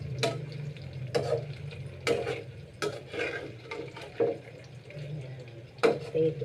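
Potato fries in a pan, crackling softly while a utensil scrapes and clatters roughly every second, near and moderate in level, over a low steady hum.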